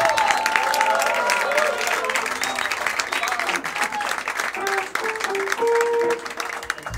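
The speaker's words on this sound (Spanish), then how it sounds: "Un aplauso bien fuerte" A studio audience at a comedy talk show applauds a guest: continuous, full-bodied clapping with cheering and a few voices mixed in, holding steady for several seconds before briefly dipping.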